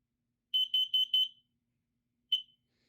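A Kidde Firex i4618 combination smoke and carbon monoxide alarm gives four rapid shrill beeps close by, then one more beep after a short pause, with quiet around it.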